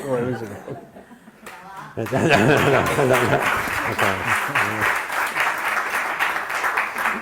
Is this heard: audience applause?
yes